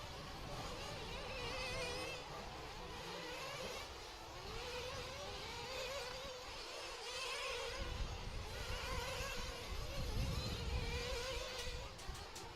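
Nitro RC cars race on a dirt track during qualifier heats, their high-pitched, whining two-stroke engines rising and fading as they pass, fairly distant and quiet, with a commentator's voice faintly in the background.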